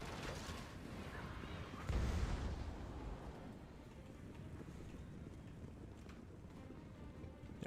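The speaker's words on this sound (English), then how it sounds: "Hell Cannon continuing to fire away" A Hell Cannon and other artillery fire in a Warhammer video game battle: one low, muffled boom rises briefly out of a faint, windy wash of background noise.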